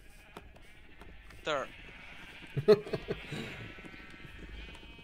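Minecraft sheep give a single clear bleat near the start. Casual voices talk over quiet game background sound and a few soft clicks.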